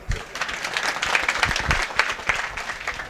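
Applause from an audience at a temple donation announcement: a dense run of clapping fills the whole stretch at steady loudness, with a few sharper individual claps standing out near the front.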